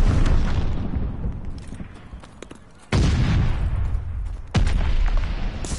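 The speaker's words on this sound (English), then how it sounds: "Allies calling a mortar barrage." Mortar barrage in Call of Duty Vanguard, heavy booming explosions arriving in waves, with sharp loud impacts striking twice in succession over a rumbling battlefield.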